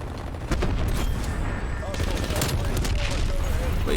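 Dense game gunfire from a multiplayer shooter with hardpoint mode, steady loud bursts of shots and explosions filling the whole stretch, with a voice talking faintly underneath.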